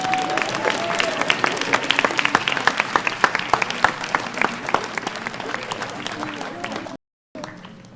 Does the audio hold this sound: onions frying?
no